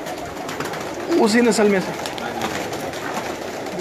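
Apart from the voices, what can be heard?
pigeons cooing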